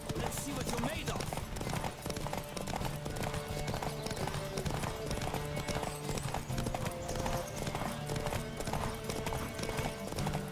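In The Witcher 3, a horse gallops hard during a race, its fast, rhythmic hoofbeats loud and continuous throughout, mixed with game effects and voices talking over the pounding.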